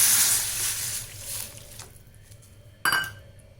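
Coconut milk with dissolved tamarind pours into a pan with a brief liquid rush, followed by a single clink of a utensil against the cookware, close and fairly quiet.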